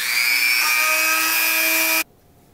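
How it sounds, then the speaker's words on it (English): A small rotary tool fitted with a diamond bit drills a tiny hole in a thin piece of wood for a Halloween flying-bat prop, a loud steady high whine for about two seconds that cuts off abruptly. "I'm going to use this diamond thing that I don't ever use for anything else, and it's just to drill a teeny little hole."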